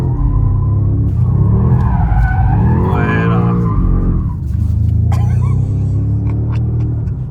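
A BMW M5 G90 drifts sideways with tires skidding, a loud wavering squeal rising and falling over the constant engine roar, followed by sharper screeching bursts near the end.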